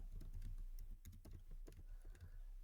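Rapid, steady typing on a computer keyboard, close and moderately loud, with dense irregular clicks throughout and no voices.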